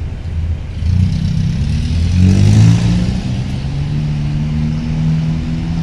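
Cars and other vehicles roll steadily through a regular ferry pier at night, engines humming close by in a continuous low drone that swells briefly with a nearby acceleration before settling back.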